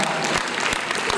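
A short burst of dense audience clapping at a national town hall meeting in Sierra Leone, brief and steady with no voices over it.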